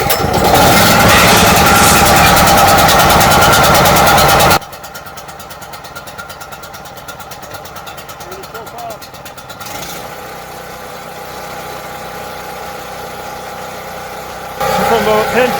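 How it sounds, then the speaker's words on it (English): A Champion portable generator runs steadily with a constant engine drone. The first few seconds are loud and close, then it continues quieter from about ten feet away and grows louder again near the end. "From about 10 feet away you can hear how loud the generator is running."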